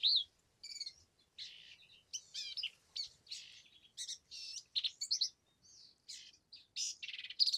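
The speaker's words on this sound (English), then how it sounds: "compare that to this very complicated song of the black-capped vireo" Black-capped vireo song: rapid, varied high chirps and warbled phrases delivered in short bursts separated by brief pauses, clear and fairly close against a quiet background.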